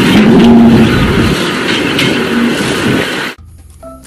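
A sand truck's engine roars loudly up close with a revving drone for about three seconds, then cuts off abruptly, leaving faint tones behind.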